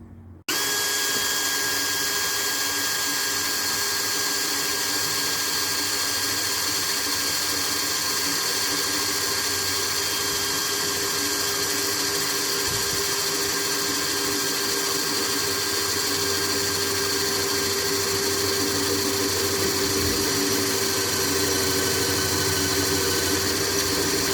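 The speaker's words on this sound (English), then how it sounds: "All we've got to do now is drill the 2 holes through" A power drill drilling holes through metal on a trailer drones with a steady mechanical whine for the whole stretch, a constant motor hum with a few faint clicks and no voices.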